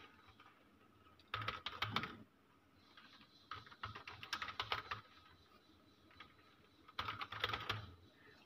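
Typing on a computer keyboard in Microsoft Word comes in three quiet, close bursts of rapid key clicks, with short silent gaps between them.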